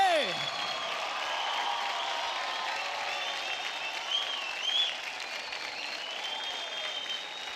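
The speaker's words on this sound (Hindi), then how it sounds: "क्या बात है, जोरदार ताली हो जाए" Studio audience on a televised dance competition show applauding loudly and continuously, dense clapping with a few whoops and cheers, while an announcer speaks over it.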